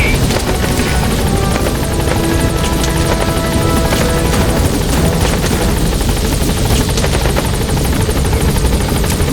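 The Pequod helicopter in Metal Gear Solid V, hovering at a landing zone, gives a loud, continuous rotor thump and engine whine, with a dense wash of game effects and a faint voice mixed in.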